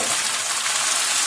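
Steady bright sizzle of tomatoes added to peppers frying in a pan, a loud continuous crackling hiss with no pauses.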